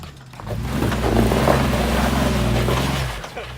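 An off-road vehicle's engine revs hard and holds a loud, droning note while crawling over rocks on a desert trail, then eases off near the end.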